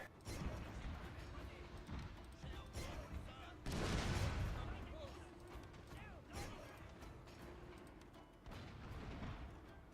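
Ship artillery firing explosive shells in the Fall of Samurai strategy game, a steady rumble of distant cannon booms and crackling battle noise with a louder surge of blasts midway through.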